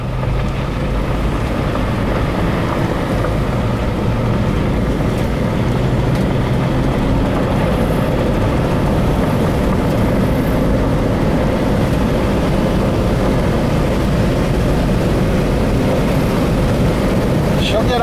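A Chevrolet Trailblazer engine runs just after a cold start, giving a loud, steady rumble with a breathy, wind-like hiss that holds unchanged for the whole eighteen seconds.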